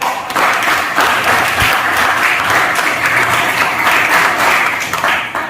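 A class of machining students claps for their lesson, dense hand clapping rising quickly and holding steady and fairly loud for several seconds before starting to thin out.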